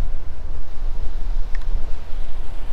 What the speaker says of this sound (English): The wind's just really picked up.